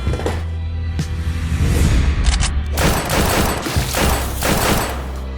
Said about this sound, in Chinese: 突然，简眼辽主使在电梯遭到了枪击